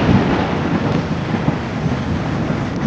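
Heavy rain pouring down on a village during the rainy season, a dense, loud and continuous roar of rushing water that runs unbroken from start to finish with no voices.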